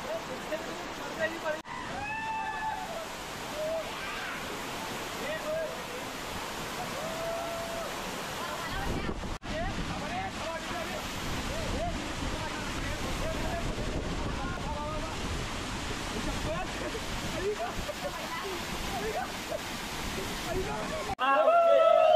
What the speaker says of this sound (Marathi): हे जे 7 धबधबे आहे त्यातील सगळ्यात उंच हा धबधबा आहे